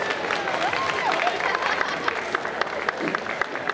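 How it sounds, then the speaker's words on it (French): Clapping from a crowd at a convention Disney concert for children brought to the front, a lively patter of applause with a few sharper claps and some talk underneath. "on peut les applaudir très très fort"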